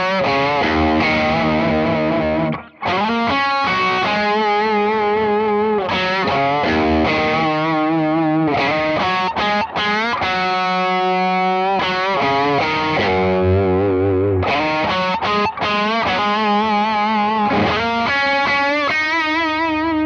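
A heavily distorted electric guitar plays a slowed blues rock intro riff, with gritty bends and sustained notes, loud and continuous throughout.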